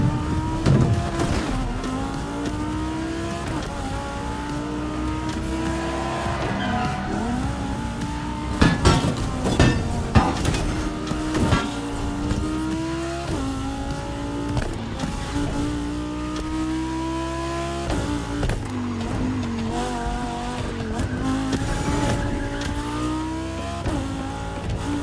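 Racing cars in The Crew Motorfest roar and rev steadily, engines climbing and dropping in pitch with tire squeals and brief skids, loud and continuous under a music bed.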